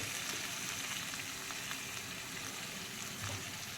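Restaurant-style chicken fry, finished with coriander and lime juice, being stirred in a pan: a soft, even sizzle with faint stirring scrapes, steady and fairly quiet, without talk.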